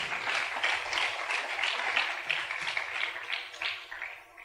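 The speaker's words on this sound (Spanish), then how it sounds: "Den un aplauso al Señor Jesucristo" Congregation clapping in applause for Jesus during a church service, a steady patter of many hands with rhythmic accents, fairly close and continuous throughout.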